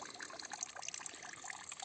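Cold, light water runs from an underground spring in the jungle, a steady trickling, bubbling flow close by with no voices.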